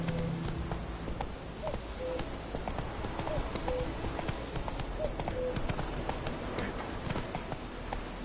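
Horse hooves clip-clop in a steady, even rhythm on hard ground, moderately close, over a constant low background rumble.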